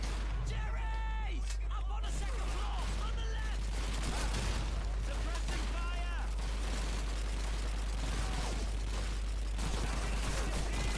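Rapid gunfire bursts from the World War II shooter Call of Duty 2 crackle throughout, overlapping and dense, with voices talking over the shooting and game sound effects.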